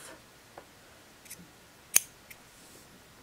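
Scissors trim a sewn fabric placket at an angle, producing a few quiet, crisp snips at irregular spacing with one sharper, louder cut near the middle, close by and otherwise nearly silent.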